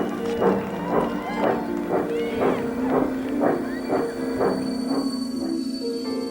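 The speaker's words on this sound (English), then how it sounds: "a mighty cheer went up as the Queen's train glided into the station." Steam train pulling into a station with rhythmic chuffing puffs that gradually slow and soften over a steady hissing tone, heard fairly close.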